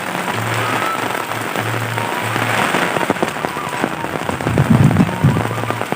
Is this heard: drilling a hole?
no